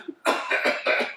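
A man gives a short burst of three or four harsh, close coughs in quick succession, preceded by a faint breath, during a staged reading of an Oscar Wilde comedy.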